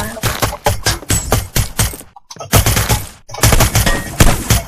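Shotgun fire in the video game Hitman: Blood Money, loud repeated blasts in rapid succession with a short pause midway, dense gunfire throughout.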